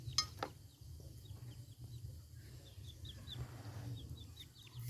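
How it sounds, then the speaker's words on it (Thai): An egg-laying hen clucks faintly in short repeated calls from a distance, over a low steady rural background hum with a few sharp knocks near the start. "อันนี้ก็น่าจะเป็นไก่พันไข่คือกันแหละพี่น้อง"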